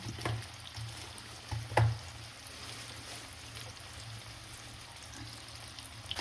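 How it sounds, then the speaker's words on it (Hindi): Mashed sweet potato fries in ghee in a kadhai with a faint, steady sizzle, broken by a couple of soft knocks from stirring. "तो आपको ना कढ़ाई लेनी है और उसमें डालना है घी, और फिर जो मैश की हुई शकरकंदी थी ना वो डाल देना है।"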